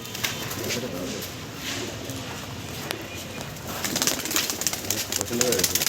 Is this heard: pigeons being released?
yes